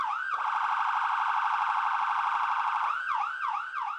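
A loud wailing ambulance siren holds a steady tone, then switches to a rapid rising-and-falling yelp near the end, with no voices.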